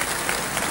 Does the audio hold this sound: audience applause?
yes